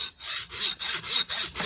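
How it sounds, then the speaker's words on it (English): A hacksaw cutting through the bone of a whole pork shoulder at the elbow joint, four or five quick rasping back-and-forth strokes in even rhythm, close and loud, without talk. "grab your hacksaw,"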